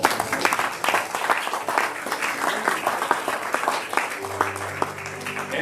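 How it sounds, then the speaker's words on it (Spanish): A church congregation applauds, a continuous moderate wash of clapping with a sustained organ or keyboard tone entering near the end. "Denle un aplauso, Señor."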